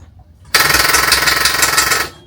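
A dinghy outboard engine's starter cranking at sea: a loud, continuous harsh grinding whir that kicks in abruptly after a half-second of quiet, runs steadily for about a second and a half, then cuts off without the engine catching.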